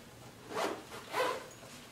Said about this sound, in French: on ouvre le produit ici avec la petite fermeture éclair